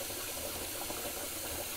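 Tap water running steadily into a sink as it fills, a constant broadband rush with no breaks, moderately loud and close, with no voices.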